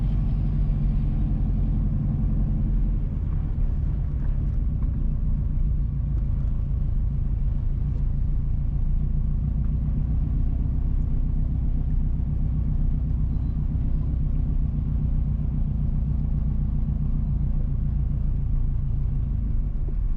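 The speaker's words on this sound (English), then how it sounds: "We are driving on the Huddersfield to Mango Valley Road." Car interior while driving along the rural Huddersfield to Mango Valley road in St Mary, Jamaica: a continuous low engine and tyre rumble, steady and fairly loud for twenty seconds, with no one talking.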